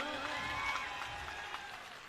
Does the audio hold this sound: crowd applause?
yes